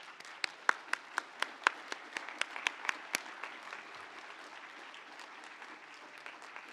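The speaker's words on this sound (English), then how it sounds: "Let us give a round of applause to the graduates who have just been presented." Applause for newly presented graduates at a university commencement ceremony: distinct, sharp claps up front in a quick rhythm, blending into a softer, sustained patter of crowd clapping that continues steadily.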